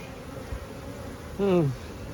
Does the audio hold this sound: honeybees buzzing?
yes